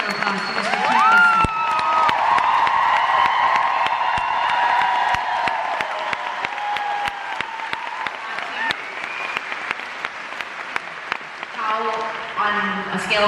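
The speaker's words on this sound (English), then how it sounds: "Huge round of applause to Mr." A theatre audience at a concert bursts into loud applause and cheering, dense clapping with whoops that gradually thins toward the end, while voices carry over the crowd.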